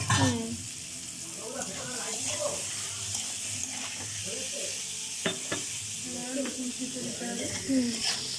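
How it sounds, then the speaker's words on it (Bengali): Four large onions frying in oil for a curry leaf chicken curry produce a steady, moderate sizzle with occasional stirring scrapes, close by, while a person talks over the cooking. "পেঁয়াজটা একটু হালকা হালকা ভাজা হবে"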